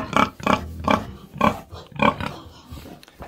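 Pigs grunting indoors in a farm building on a cold day, a series of about six short, close grunts in an irregular rhythm, loud and clear with no talk over them.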